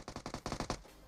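A UMP submachine gun fires in PUBG Mobile, a quick burst of about eight rapid shots at a steady rhythm, then stopping.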